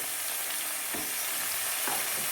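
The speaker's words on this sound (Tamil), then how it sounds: "பொரியுது பாருங்கள் அதில் வந்து பூண்டு வெங்காயம் கருவேப்பிலை தக்காளி போட்டு வணக்கிட்டேன்" Garlic, onion, curry leaves and tomato fry in a pan for a vegetarian fish-style curry, giving a steady, dense sizzle up close, with a couple of soft stirring scrapes and no voices.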